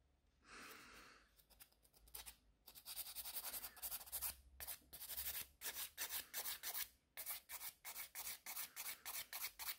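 Gel nail extensions being filed by hand, a rhythmic series of quick raspy rubbing strokes that start irregular and settle into a steady back-and-forth pattern, close and fairly quiet with no talk.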